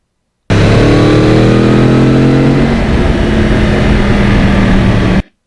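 A Yamaha R1 crossplane sport motorcycle being ridden, its engine droning loud and close with rising tones as it accelerates through the revs, then holding a steady buzzing note before cutting off.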